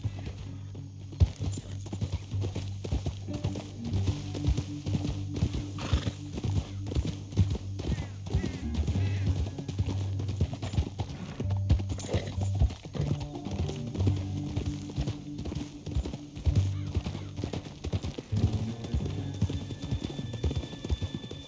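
Rapid hoofbeats clatter continuously as horses gallop in the video game Red Dead Redemption 2, a dense, driving clip-clop rhythm with low rumbling underneath and occasional faint voices.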